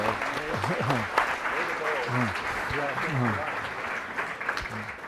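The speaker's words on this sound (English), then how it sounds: "perhaps we can give us a little round of applause for their insight" Audience applause at a ministerial fireside discussion event, a steady patter of clapping with someone talking over it at close range.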